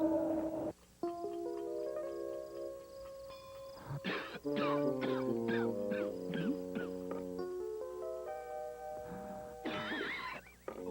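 Harsh bursts of coughing break in twice over a backdrop of soft chiming musical tones, in a cough syrup TV advertisement.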